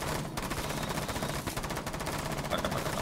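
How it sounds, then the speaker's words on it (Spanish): Rapid automatic MP7 gunfire from Rainbow Six Siege in the shooting-range mode, a dense, loud stream of shots running unbroken for about three seconds with no talk. "podemos hacer esto de ponernos a disparar con esta MP7"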